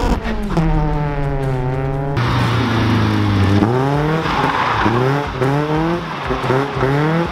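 A Mazda NB Miata revs hard in a burnout, its engine roaring up and down in repeated surges alongside squealing, skidding tires, loud and close throughout.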